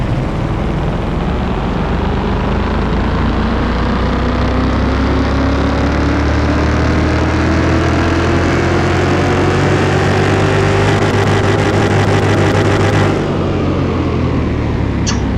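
In the Car Mechanic Simulator game, a car engine starting at 309 horsepower is run on a dyno, droning loudly as its revs climb steadily, then cutting off near the end.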